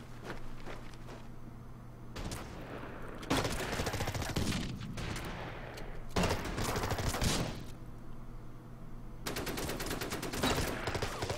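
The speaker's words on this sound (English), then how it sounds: "here comes the enemy artillery" Enemy artillery fire in the Order of Battle war strategy game, set on Bougainville, comes in several loud, crackling barrages of shots and blasts, with brief quieter gaps between them over a low hum.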